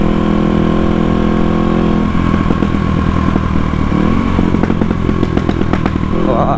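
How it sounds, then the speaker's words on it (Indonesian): A motorcycle engine idles loudly up close, then breaks into rapid irregular popping backfires and crackles toward the end. "Enak coy denger backfire kayak gini."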